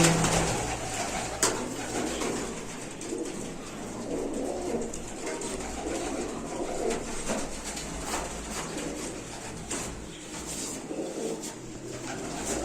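Domestic pigeons coo continuously in a clean pigeon loft, a close, steady chorus of overlapping soft throaty calls with no talking.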